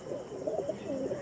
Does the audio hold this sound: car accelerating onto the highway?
no